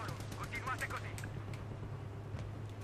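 Battlefield 3 gunfire heard as scattered sharp shots over a steady low game hum, strongest in the first second and thinning to faint distant reports, with no voices.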